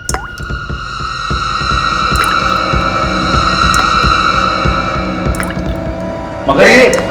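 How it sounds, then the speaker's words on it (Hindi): Blood dripping from a ceiling, a series of distinct drips falling at irregular intervals over a steady sustained hum, ending in a louder burst of sound. "खून टपक रहा है छत से"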